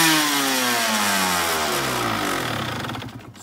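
A stock Suzuki RM 125 two-stroke motorcycle engine revs loudly up close, its pitch falling steadily as the throttle closes over a few seconds, alone with no talk.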